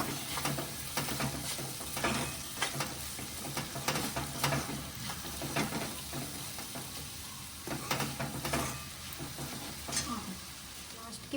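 Ivy gourd fry being stirred in a pan with chili powder, a steady close sizzle of frying with scraping stir strokes coming through at irregular intervals and no talking.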